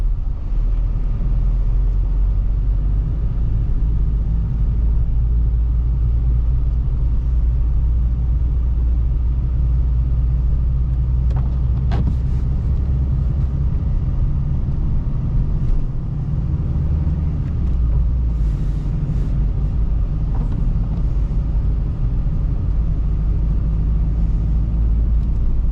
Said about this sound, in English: A lot of cars. It's not every day you see that many cars in this road.